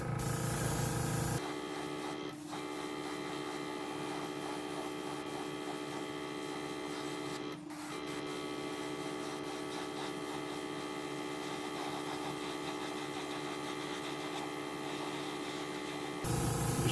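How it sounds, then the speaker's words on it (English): A paint spray gun hisses steadily as it coats old fishing lures with a custom paint scheme, producing a continuous close airy spray that runs unbroken for most of the stretch, with only brief interruptions. "just to make sure the paint's going to flow real nice through my gun. Give it a couple sprays."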